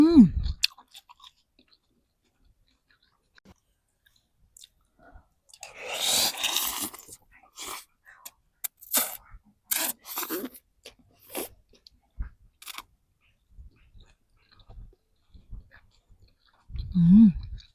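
A person eats pork noodle soup from a roadside stall, slurping and chewing close to the microphone in scattered bursts between quiet pauses, with a brief voice near the start and end.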